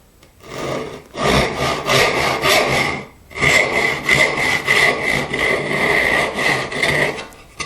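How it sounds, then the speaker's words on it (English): Hand saw cutting a wood tenon, close and loud: a burst of rhythmic push-pull strokes, a brief pause, then a longer steady run of rasping strokes, with no talking. "I'm just going to saw most of it."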